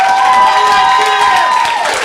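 An audience in a hall applauds loudly and steadily after a children's performance, dense clapping with some cheering and shouts throughout.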